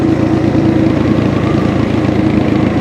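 A motorcycle travels along a newly built mountain road near a campsite in Tarlac, its engine a steady continuous drone heard from a distance with no talking over it.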